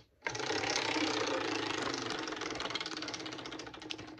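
A spinning prize wheel clatters with a rapid, steady run of ratcheting clicks that starts abruptly, stays loud and close, then gradually slows and thins toward the end, with no voices over it.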